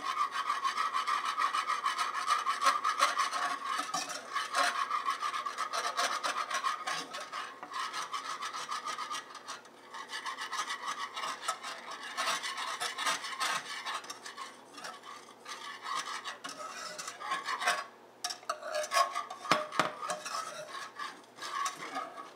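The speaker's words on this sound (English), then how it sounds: "So start your stirring." A spoon or whisk stirs a warm low-carb panna cotta mixture in a pot to dissolve it, giving a steady, close scraping and rubbing that runs continuously with small pauses and no talking.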